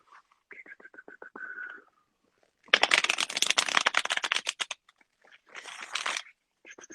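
A Mystic Medleys oracle card deck is shuffled up close in quick bursts of crisp riffling and slapping, with pauses between rounds and no talk over it.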